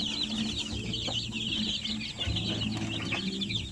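Hens clucking in short, repeated bursts amid a busy backdrop of chirping birds and farmyard noise, fairly close and steady throughout.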